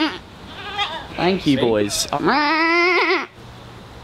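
A sheep gives one drawn-out, wavering bleat close by after a quick mix of short animal calls, while a person speaks briefly over the start.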